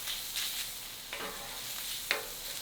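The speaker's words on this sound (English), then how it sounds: "We're going to wait for this Spam and bacon to render down." Spam and bacon rendering down in a pan for sockeye salmon fried rice: a soft, constant sizzle broken by a few scraping stirs and one sharper clack near the end.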